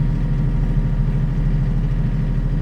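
A Ford RK37HC tractor engine runs steadily at close range, a continuous low, even rumble with no breaks, alone in a snowy farm setting.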